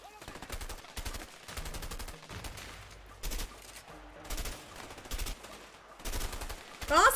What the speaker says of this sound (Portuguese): eu dou 15 tiros pro cara morrer.